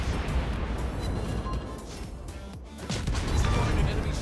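Torpedo impacts and explosions crash against a warship in World of Warships during a Fletcher destroyer battle, with a dense, rumbling series of hits and a heavier burst near the end; a voice speaks briefly amid the noise.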